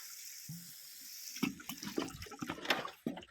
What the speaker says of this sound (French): vous arrosez un premier coup pour aider un petit peu à la décomposition